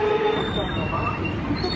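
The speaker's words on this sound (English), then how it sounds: "we have a train arriving into platform 2" A train pulls into platform 2 at Glen Waverley station, with wheel squeal and steady rail rumble close by and faint speech over it.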